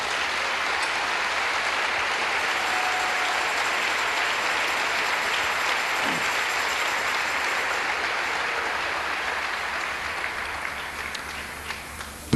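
Church congregation applauding in steady, dense clapping that fills the whole stretch at full strength, easing slightly toward the end, with no voices rising above it.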